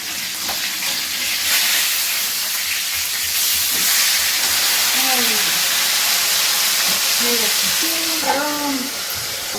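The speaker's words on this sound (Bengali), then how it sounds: "মাছ হয়ে গেছে এখন অত সুন্দর ভাজা" Rohu fish fries in a pan with a steady, loud sizzle that runs through the whole stretch, while a voice speaks briefly over it.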